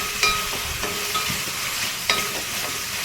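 Ginger paste being stirred into a sizzling potato and capsicum curry in a pan. A constant frying hiss runs throughout, broken by a couple of sharper scraping strokes from the spoon.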